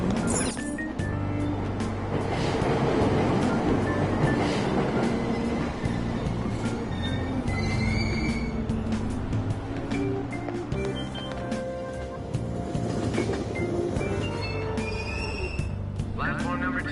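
Persona 5 Royal subway train at Aoyama Itchome station: a steady rumbling, clattering ride noise with mechanical whirs and beeps runs throughout, while a recorded announcement voice speaks over it.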